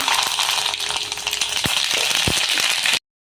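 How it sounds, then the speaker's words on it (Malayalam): Dense crackling and spluttering of mustard seeds popping in hot oil, continuous and close, with a few sharp pops standing out. "എണ്ണ തിളച്ചിട്ടുണ്ട് കടുക് ഇട്ട് കൊടുക്കുക"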